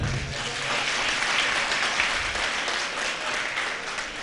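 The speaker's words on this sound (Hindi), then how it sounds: "एक बार अपने लिए ताली बजा लो।" Dense applause from a large audience at a Jain religious sermon gathering, a sustained rush of many hands clapping at once, loud and continuous with no break.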